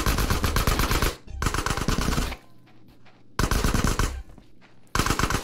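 Rapid automatic gunfire in Grand Theft Auto: San Andreas, loud, close bursts that stop for about a second, resume, pause again, then return near the end.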